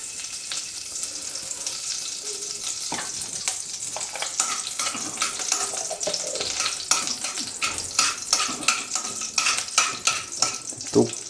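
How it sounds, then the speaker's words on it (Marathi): Two small spoons of ghee melt and sizzle in a hot pan, a steady close crackle with occasional sharp clicks and light spoon-on-metal taps, no voices. "आपला पॅन तापलेला आहे, त्याच्यामध्ये आपण 2 चम्मच तूप टाकूया."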